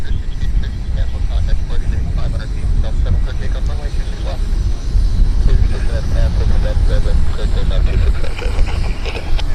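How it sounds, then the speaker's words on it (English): An Air Transat jet takes off at Vancouver Airport, its broad, steady engine roar filling the scene from a distance and building slightly toward the end, with voices talking over it. "That's a Transat cleared for takeoff."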